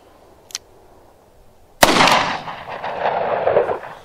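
A single sharp, loud gunshot from a .38 Special +P snub nose revolver with a 2-inch barrel, fired outdoors, followed by a long rumbling echo. A faint click comes just before it.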